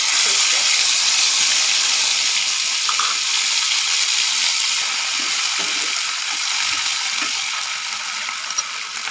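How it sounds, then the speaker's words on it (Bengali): Onion paste drops into hot oil seasoned with nigella seeds and fries with a loud, steady sizzling hiss that lasts the whole stretch, easing slightly near the end. "এবার দিয়ে দিচ্ছি যে পেঁয়াজের পেস্টটা করে রেখেছিলাম।"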